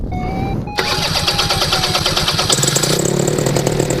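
A paramotor engine fires up after a short whirring pull, then catches and runs as a loud, close, buzzing two-stroke drone that rises in pitch and stays steady to the end.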